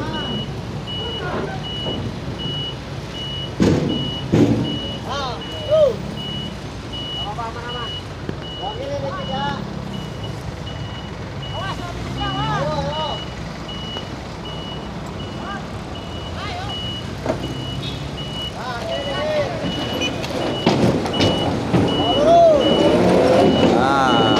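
A truck's reversing alarm beeps in a steady repeating pulse while asphalt paving equipment is unloaded from its bed, engine rumbling beneath, with people talking nearby and louder mechanical noise building toward the end.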